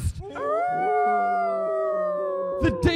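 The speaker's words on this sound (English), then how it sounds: "the howling wolves" Wolves howl in a radio drama sound effect: one long, sustained, wavering cry that rises and holds before tailing off, loud and close with nothing else around it.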